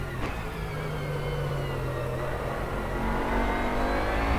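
A Bentley Continental GT3 race car engine in a racing simulator drones steadily and builds as it accelerates, a loud continuous whine with rising and shifting tones, no talk heard.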